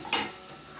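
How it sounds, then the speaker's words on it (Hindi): Onions and green chilies hitting a hot frying pan in a home kitchen: a short burst of bright sizzling that quickly settles into a low, steady hiss. "मुझे हल्की सी फ्राई करनी थी बस प्याज"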